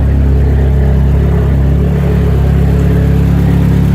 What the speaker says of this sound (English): Just going to give it a test start now. It is jacked up, that's why wheels are spinning.